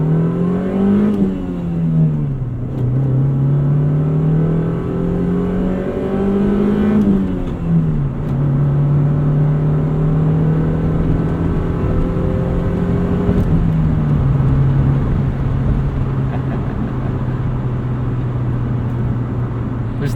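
A Honda Civic Si's engine drones up through the revs while driving, pitch climbing and dropping with each gear change, loud and close with steady road roar underneath.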